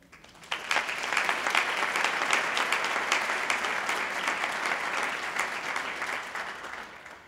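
Graduating medical students at a university spring convocation break into sustained applause, a dense wash of clapping that starts abruptly and holds steady before slowly tapering, with no speech over it.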